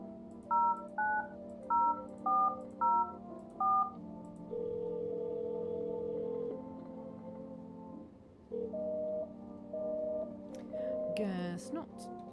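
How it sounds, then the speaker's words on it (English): Touch-tone telephone keypad dialing in the video game No, I'm Not A Human: a quick run of evenly spaced beeps, then a long steady tone and a few more spaced beeps, with a brief burst of other game sound near the end. "Can I phone his house when he's not here?"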